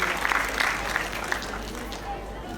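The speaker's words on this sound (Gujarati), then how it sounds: "આવો આપણે સૌ તાળીઓના નાદથી, તાળીઓના ગુંજારણથી આપણા આનંદ અને રાજીપાને વ્યક્ત કરીશું।" An audience applauds at a civic award and honour ceremony in Bhavnagar, with a brief burst of clapping at the start that quickly thins and fades while a voice speaks over it.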